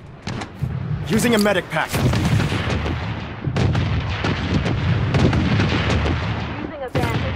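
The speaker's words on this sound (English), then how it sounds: "Missile bombardment on its way!" Missile bombardment in the mobile shooter Blood Strike, with repeated heavy explosions and gunfire crackling in bursts across several seconds, loud and close, while a game voice calls out in between.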